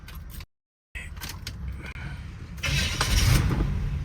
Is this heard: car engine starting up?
yes